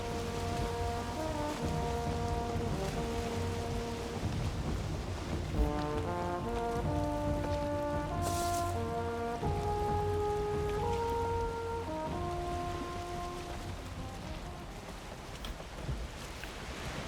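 A steady wash of rain hisses through a stormy night in Valheim, with low rumbling thunder and drawn-out tonal drones layered over the downpour, continuous and fairly loud throughout.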